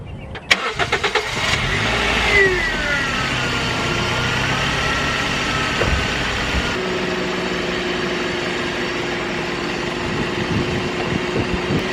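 A Nissan R34 Skyline engine catches after a couple of sharp clunks, revs briefly, then settles into a steady idle heard up close, with no talk over it.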